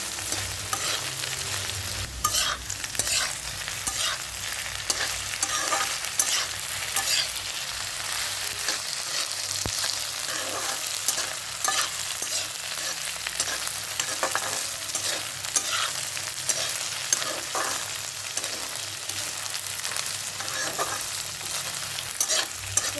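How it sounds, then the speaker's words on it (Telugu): Okra stir-frying in a hot pan, a steady sizzle layered with constant, rhythmic scraping and stirring strokes close by, with no talking. "ఇలా ఈ విధంగా కలుపుకుంటూ అన్ని బాగా వేడిగా తీసుకోవాలి"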